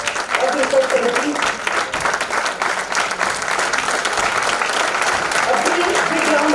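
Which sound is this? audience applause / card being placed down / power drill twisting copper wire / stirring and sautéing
audience applause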